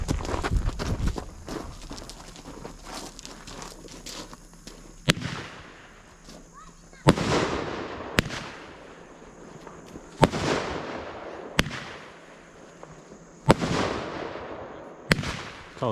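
A six-shot firework cake at a backyard birthday party fires sharp, loud bangs spaced a second or two apart, each followed by a crackling tail, after an opening burst of rapid pops and a few voices.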